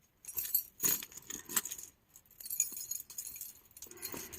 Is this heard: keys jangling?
yes